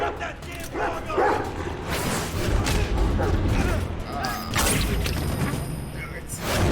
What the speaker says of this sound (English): Shut that damn dog up!